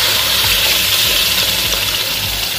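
Mango paste hitting melted desi ghee in a pan for mango laddoo, giving a steady, loud broadband sizzle and hiss that holds evenly throughout, with no voices.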